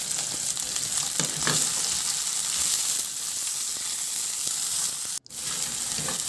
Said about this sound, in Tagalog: Igisa ko na rin yung luya at bawang. Ihalo lang hanggang sa maglabas ng aroma.